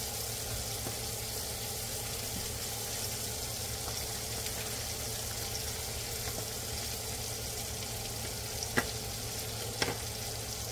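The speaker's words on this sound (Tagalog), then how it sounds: "Natin ididiin ng konti para maganda ang pagka-prito ng kanyang balat." Salmon skin frying in a pan over low heat, a steady continuous sizzle with a couple of faint clicks near the end.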